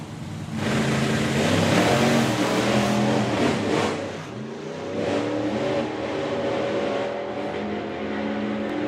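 Drag racing cars launch down the strip with a roaring rush of engine noise, swelling loud and then dipping as throttle comes on and off, followed by a sustained lower engine drone.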